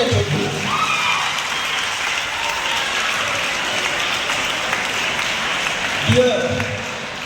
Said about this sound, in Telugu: చప్పట్లు కూడా కొట్టే